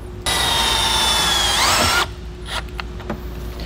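A power drill drives a self-tapping screw into the body of a 2018 Ford Fiesta: one close, loud whirring burst lasting under two seconds, its pitch rising briefly before it stops, followed by faint handling clicks.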